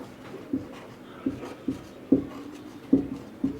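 Marker or chalk strokes on a board during a chemistry lesson, six short distinct taps and scrapes spaced irregularly, close and moderately loud with no talking.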